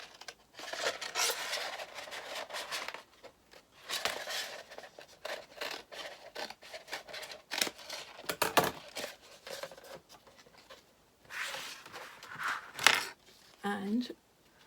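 Cutting an Infusible Ink transfer sheet for a mug press, with intermittent close scraping, snipping and sheet rustles, alongside some handling noise and brief talk.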